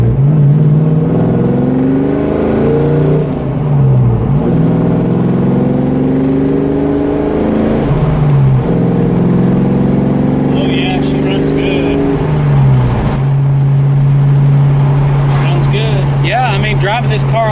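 A Ford Fox body Mustang engine drones steadily while driving, its pitch climbing through gears with clear shift dips, loud and close from inside the car, with people talking over it.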